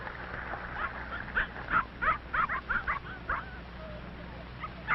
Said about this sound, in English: A big red setter is running toward them.